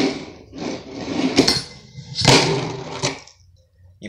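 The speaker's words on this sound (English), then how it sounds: "You pop, you grind, and you drop." A skateboard doing a front crooked grind: several loud scraping, rolling and clacking bursts close by, with a sharp pop and grinding scrape followed by a landing impact before fading.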